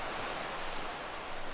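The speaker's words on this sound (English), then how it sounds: "Continuous crashing of the water against the rocks." Pacific surf at Trinidad, California, breaks continuously against the rocks, heard as a steady broadband wash of roaring water, moderately loud and unbroken, with no talking.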